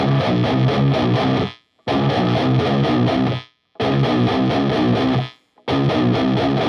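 A heavily distorted electric guitar plays a riff at slow speed, in palm-muted chugging bursts that repeat about four times with short gaps between them, loud and close.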